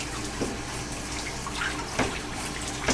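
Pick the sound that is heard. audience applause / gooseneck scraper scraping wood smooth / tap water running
tap water running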